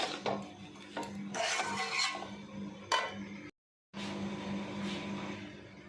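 Spoon scraping and stirring in a pan while mixing egg chowmein made from leftover rotis with tomato sauce and cheese, soft rhythmic rubbing and clinks, close and quiet, with a brief silent gap.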